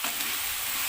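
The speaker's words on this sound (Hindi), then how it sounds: "और अब इसके अंदर जाएगा अदरक 1 चम्मच पिसा हुआ," Finely chopped potatoes with a spoonful of ground ginger paste sizzle steadily in a hot pan, a dense close hiss that fills the whole moment without pause and without any voice.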